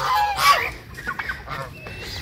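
Geese and other fowl honk and cackle in short, loud bursts close around a person walking among a flock of farm birds, with a sharp honk near the start and scattered calls after.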